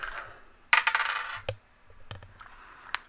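Dice tumbling across a tabletop during a tabletop role-playing session, a loud clattering roll followed by a few scattered knocks and a final light tap as the dice settle.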